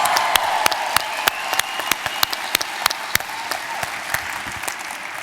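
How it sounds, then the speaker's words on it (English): A large audience applauds at a Stephen King talk at UMass Lowell, a dense, steady wash of many hands clapping with individual sharp claps popping out, continuous throughout with faint crowd murmur beneath. "Give yourselves a hand while I think about that."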